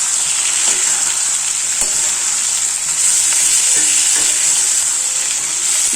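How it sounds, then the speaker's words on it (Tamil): Radish sautés in a pan for a mutton and radish kuzhambu, giving a steady loud sizzle with occasional soft stirring scrapes, close and without talk. "அதையும் போட்டு ஒரு வதக்கு அதுக்கு வச்சிடலாம்."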